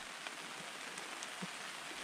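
Steady rain during the rainy season, a dense, even hiss of drops on surfaces with a few louder individual drips, faint and continuous with no voices.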